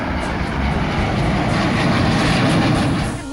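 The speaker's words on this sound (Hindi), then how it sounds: "बादल छंटे तो वायुसेना के विमानों ने उड़ान भर ली" Air Force aircraft taking off, a loud continuous roar of engines with a deep rumbling low end that holds steady and fades slightly at the end.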